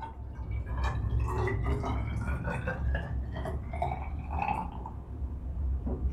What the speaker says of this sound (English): that's basically going to be the process of pouring in your juice